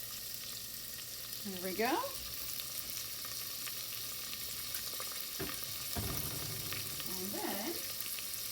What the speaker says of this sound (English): we are going to add our onion. Just right in the pan.